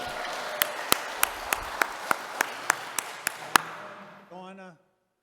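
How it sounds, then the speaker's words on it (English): A small group at a town board meeting gives a soft round of applause, with a handful of distinct claps standing out over a light, fairly close patter before a voice speaks at the end. "Round of applause, please."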